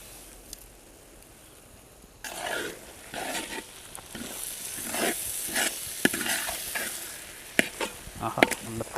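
In a pan, masala mixed with fried coconut from five coconuts is stirred for a quail egg roast. The spoon scrapes and thuds over a continuous loud sizzle, with sharper clacks near the end, and no one speaks.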